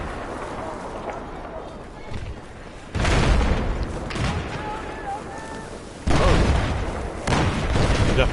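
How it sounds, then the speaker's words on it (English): Mortar shells exploding in Battlefield 4, with two loud, close booms a few seconds apart and rumbling tails, over quieter game ambience and voices. "Mortar incoming."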